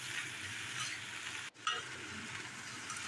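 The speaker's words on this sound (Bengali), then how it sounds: "আবারও সবটা নেড়ে চেড়ে ভালো করে ভেজে নিতে হবে পালং শাকের কাঁচা গন্ধটা চলে যাওয়ার জন্যে" Spinach and sweet corn stir-fry in a pan with a steady, close sizzle, broken by a brief scrape of stirring partway through, with no talk.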